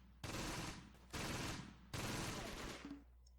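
An MG42 machine gun in the Close Combat: Gateway to Caen video game fires three sustained bursts, each about a second long with short gaps between them, loud and alone with no talk.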